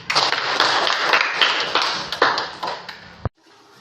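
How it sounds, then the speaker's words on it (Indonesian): A burst of many children's hands clapping together in a classroom, loud and close, steady for about three seconds before stopping abruptly. "Ya, tepuk tangan dulu."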